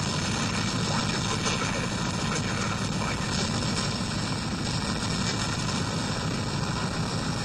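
A helicopter in the video game Mirror's Edge drones with a steady, dense engine roar and low rotor rumble, loud and unbroken throughout with no pauses or talk.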